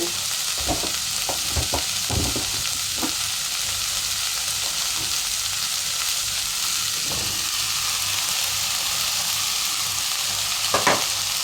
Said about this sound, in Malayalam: ഞാൻ ഇനി ഇതിലോട്ട് ടൊമാറ്റോ ഇട്ട് കൊടുക്കാൻ പോകാം കേട്ടോ നമ്മുടെ ടൊമാറ്റോ